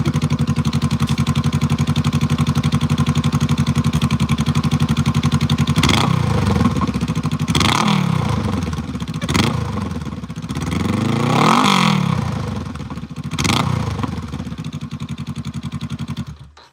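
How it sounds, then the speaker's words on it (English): A wrecked Honda Rebel 500 motorcycle idles steadily up close, then its engine is blipped in five sharp revs that rise and fall over the second half, with the idle settling back in between. "All right, let's do some revs."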